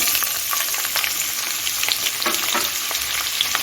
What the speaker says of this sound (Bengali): এখন আমি কেটে রাখা পেঁয়াজটা দিয়ে দিচ্ছি